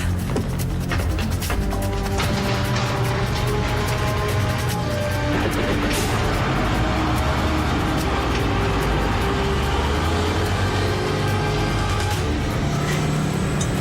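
A car engine hums steadily with road rumble throughout, a continuous close drone with occasional clunks and rattles.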